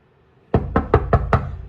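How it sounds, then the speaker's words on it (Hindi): A knuckle rapping on a door at home, five quick even knocks close by and loud, with no voices. "दरवाजा नॉक करता हूँ"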